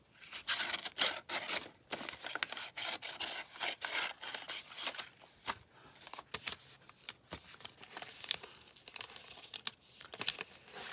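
Paper is cut for a card holder's belly band, with close, irregular crinkling, rustling and snipping of paper in quick bursts and no talking.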